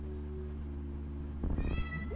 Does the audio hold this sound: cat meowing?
yes